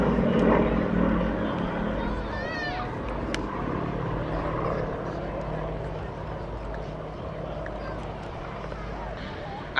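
Soviet-built propeller aircraft flying in formation at an airshow, a broad steady engine drone that holds throughout under continuous commentary and crowd noise.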